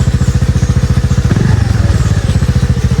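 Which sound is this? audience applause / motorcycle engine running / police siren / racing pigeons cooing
motorcycle engine running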